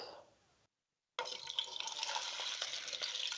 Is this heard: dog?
no